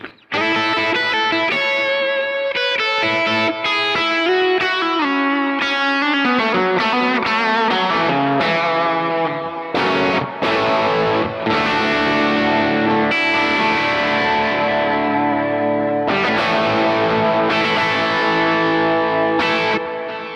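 Distorted electric guitar on the bridge pickup played through a Kemper amp, a loud continuous run of chords and notes with effects, no talking.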